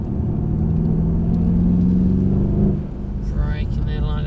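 A Mercedes AMG CLS 63 engine drones steadily under acceleration, a low rumbling tone that holds for nearly three seconds then eases off, heard from inside the car as someone speaks over it.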